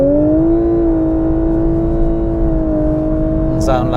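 Lexus LC 500h 3.5-litre V6 hybrid revving hard, a loud steady engine note holding pitch near the microphone, with a short burst of higher noise at the very end.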